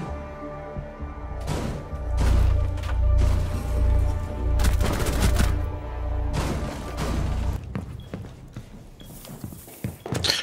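Capitão's gun firing in a Rainbow Six Siege match: a stretch of rapid, loud shots over a steady low rumble, then scattered sharper impacts near the end, with no voices.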